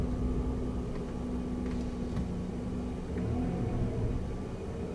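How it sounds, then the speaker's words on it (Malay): A car pulls away hard through a gear after a U-turn, a steady mid-pitched engine drone and road rumble building gently over several seconds, heard from inside with no talk. "depan ni lepas saya U-turn jalan agak clear dan selamat untuk saya tarik satu gear kot"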